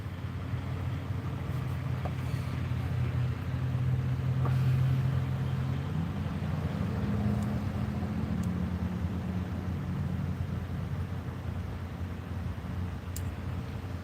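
A truck drives along the road, its engine a steady, loud, low drone blended with rushing road and wind noise throughout, with no talking.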